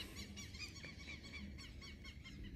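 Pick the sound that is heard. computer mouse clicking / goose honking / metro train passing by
goose honking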